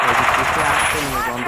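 Rapid automatic gunfire in the battle royale game Free Fire, a dense loud burst of shots over a short stretch with someone talking excitedly over it.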